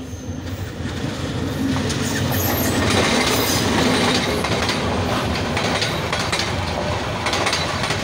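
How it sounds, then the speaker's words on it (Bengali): A small commuter train bound for Jamalpur rolls loudly through a bamboo-barricaded level crossing in Mymensingh, with a continuous close rumble and wheel clatter and no voices. "এটা কমিউটার জামালপুরে যাচ্ছে, ছোট্ট ট্রেন, বেশি বড় না"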